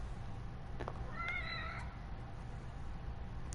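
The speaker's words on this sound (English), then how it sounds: "Whose cat is this?" A cat in the video game The Evil Within gives a couple of short, clear meows over a steady low ambient hum, with no talking.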